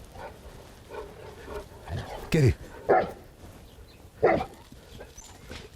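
A playful dog barking in short sharp bursts, three or four barks spaced a second or so apart, close by, while someone talks and encourages it between barks.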